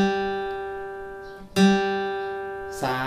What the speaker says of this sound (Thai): สาย3เสียง G ครับผม